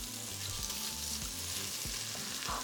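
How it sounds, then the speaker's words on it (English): Pieces of meat for chile verde stew sear in hot oil inside a pressure cooker on its sauté setting, a steady close sizzle and crackle that runs unbroken, with a low tonal hum underneath. "begin to add the pieces of meat."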